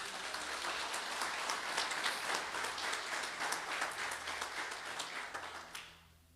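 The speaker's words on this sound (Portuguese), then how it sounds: "Aplauda Jesus." Church congregation breaking into faint, sustained applause from many hands, a dense wash of claps that fades out abruptly at the end.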